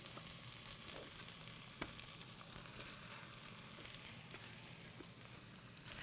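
Two chicken breasts sizzle steadily in a pan with garlic, chili powder and spices, a continuous close crackling fry with small pops and no one talking.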